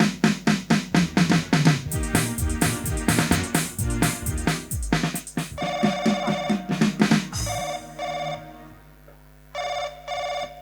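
A telephone rings loudly and insistently in repeated bursts, first layered over rapid percussive music, then alone with its electronic tone pulsing in short regular rings near the end.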